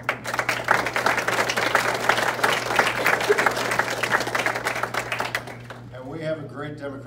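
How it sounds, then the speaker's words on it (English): Audience applause at an outdoor political campaign event in Ames, Iowa, with a crowd clapping steadily and fairly loudly for about six seconds before it thins out and fades, a low steady hum running beneath. "We give them another round of applause."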